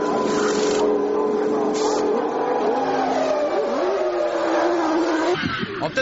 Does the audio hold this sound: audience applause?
no